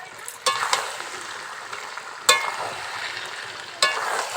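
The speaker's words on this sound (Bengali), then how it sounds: "এখন আমি এর মধ্যে ভেজে রাখা আলুগুলোকে দিয়ে দিচ্ছি।" Fried potatoes going into a pan of chicken curry, a steady soft sizzle broken by three sharp scraping stirs spaced a second or two apart, close and without talk.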